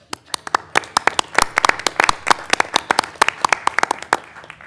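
Audience applause at a city council meeting in San Marcos, California: brisk, fairly sparse clapping from a modest crowd, individual claps standing out sharply and continuing for several seconds.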